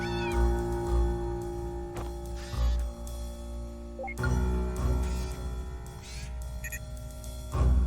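Schrodinger the cat from the Impostor Factory video game meows several times over a steady layer of game music, with brief pauses between the short cries.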